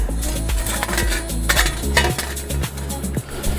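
A metal springform baking pan is handled while being unboxed, giving a run of close, sharp clanks, scrapes and rattles of metal in irregular bursts.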